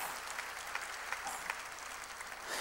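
A church congregation bursts into steady applause during a sermon, the dense clapping continuous and fairly soft, with no voices standing out.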